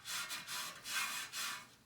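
A stainless steel pad scrapes a pellet stove in three or four quick, faint back-and-forth rubbing strokes, close by with no talking.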